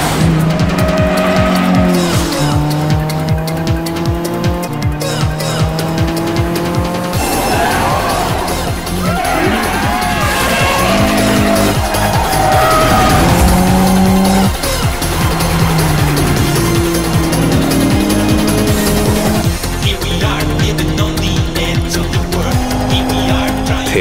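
A GT-R race car in the video game Initial D roars through rising and falling gear changes, with repeated tire squeals through a low-speed hairpin and loud, continuous engine whine.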